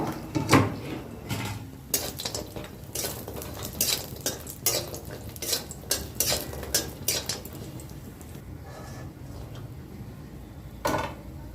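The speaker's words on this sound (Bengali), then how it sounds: "এবার বড়িগুলোকে আমি ভেজে নেব একটু লালচে করে ভেজে নেব" Store-bought lentil bori frying in oil until reddish, with repeated clinks of a utensil against the pan and stirring scrapes over a soft sizzle, the clatter busy early and sparser toward the end.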